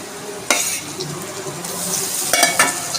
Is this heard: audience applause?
no